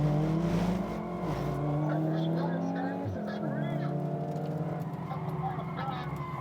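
Two performance cars, an Evo 9 and a Golf R, racing each other; a loud, steady onboard engine drone holds throughout with a brief dip midway, and voices mix in.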